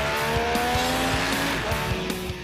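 A Benelli Tornado motorcycle riding through curves, its engine a loud, steady high-revving drone whose pitch shifts slightly as it carries the bike through the bends.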